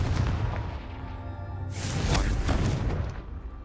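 A Confringo explosive fire spell cast in Hogwarts Legacy bursts with a loud, bright blast partway through, rising over a rumbling low background and fading after about a second.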